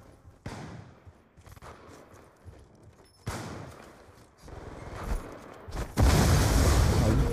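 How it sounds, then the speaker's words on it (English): Grenade blasts and gunfire in the video game Black Ops 2 gun game, with bursts of shooting and booms that build to a loud, sustained explosion near the end. "He threw a grenade at me."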